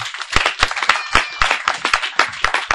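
A church congregation clapping and applauding in praise, sharp irregular claps in quick succession, close and loud, with no one talking over them.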